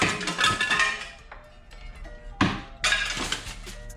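Brittle 32-year-old plastic cracks and shatters in a few sharp bursts, with scattered clattering pieces between the louder breaks.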